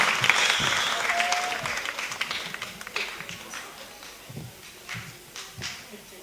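A congregation at a Sunday church service in Kenya bursts into applause, strong at first and gradually thinning into scattered claps, with voices audible over it.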